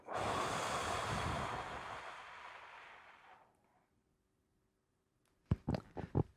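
A long, airy breath out that slowly fades over a few seconds, then silence, then a quick cluster of short, sharp sniffs or puffs of breath, close to the microphone.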